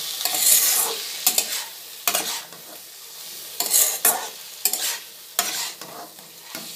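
Fried eggplant pieces stirred with spice masala in a frying pan, several distinct scraping strokes of the spoon over a low sizzle, close and clear.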